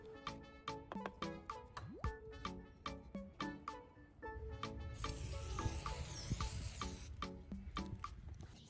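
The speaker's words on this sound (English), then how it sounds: "spray a little WD-40 onto the chrome trim" A broadband WD-40 aerosol hiss sprays steadily onto chrome trim for several seconds, following a run of sharp, crinkly aluminum foil crackles and taps up close.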